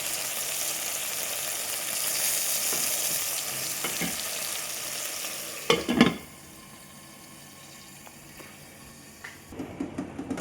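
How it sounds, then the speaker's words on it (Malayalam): Chicken frying in olive oil for chicken mandi, a loud, steady hiss and sputter that rises in bursts, then drops to a muffled low simmer as a lid goes on, with a few clatters near the end. "അപ്പോൾ അതിലെ വെള്ളമൊക്കെ പറ്റി ആ ഒലിവ് ഓയിലിൽ കിടന്ന് അത് ഫ്രൈ ആയി വരും."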